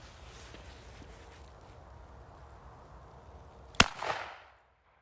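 A rifle fires once at a target 25 metres away on a snowy mountainside, one sharp loud crack late in the clip that rings out and decays, with a faint low rustle before it.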